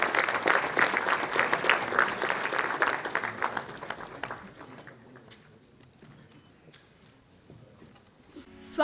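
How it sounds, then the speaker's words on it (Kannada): Loud, dense applause at a short-film award ceremony fills the first four seconds, then thins out into scattered claps and fades to near quiet. "ಜೋರಾದ ಚಪ್ಪಾಳೆ ಬರಲಿ."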